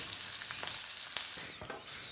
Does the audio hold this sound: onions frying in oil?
yes